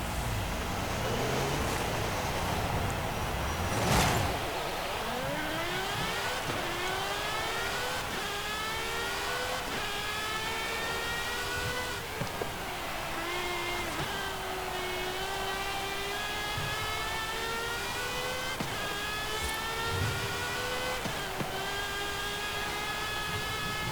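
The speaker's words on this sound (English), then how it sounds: "an absolutely stunning sounding engine, even better than the GMA 250 to be honest, even if it isn't revving quite as highly" A 2023 Aston Martin Valkyrie in Forza Horizon 5 screams through repeated high revs, its engine note climbing and dropping through gear changes with a steady whine and tire-road roar underneath, loud and continuous without talk.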